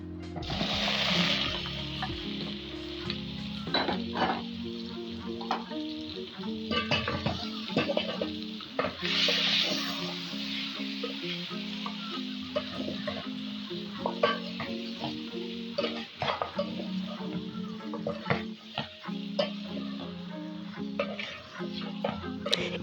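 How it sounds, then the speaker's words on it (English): Beef fries in a pot for Kenyan beef and potato pilau, a continuous sizzle broken by frequent scraping stirs and small metallic knocks against the pot, close and steady for a long stretch with no talk. "Even the beef, you're going to cook it until it is brown."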